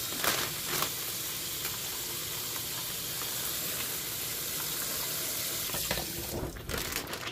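Cold tap water runs steadily into a container holding walleye fillets, a continuous hissing splash close by that shifts slightly near the end as the flow changes.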